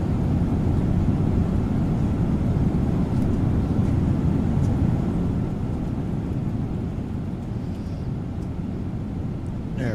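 Steady, loud low-frequency roar inside the passenger cabin of a Boeing 737-900 in flight in a flight simulator game, a constant broadband hum that eases slightly toward the end.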